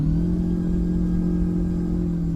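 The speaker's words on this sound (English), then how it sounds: "When I rev it out, it's got like a dook dook dook dook noise." A Kenworth Needle Nose truck in American Truck Simulator holds a steady, deep engine rumble at high revs, loud and continuous, with a low throbbing drone and no talk over it.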